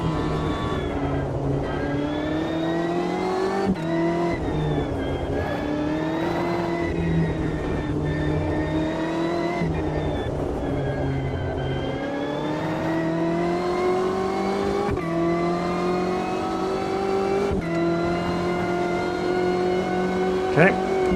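A race car circles the Indianapolis circuit in the Automobilista 2 sim racing game, its engine note climbing through the gears and dropping sharply at each shift and braking point, steady and close, with light tire noise.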